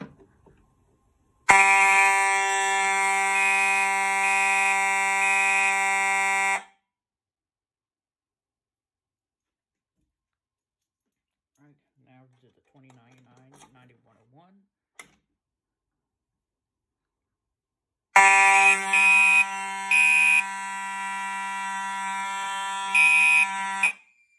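Fire alarm horns and strobes on a Potter PFC-4064 panel system test blare loudly for about five seconds, fall silent with faint handling noises between, then sound again near the end.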